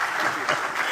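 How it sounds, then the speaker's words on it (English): Dense applause from an audience after a live interview with the president, a continuous wash of many hands clapping at steady loudness throughout the short moment. "Let's give them one more round of applause."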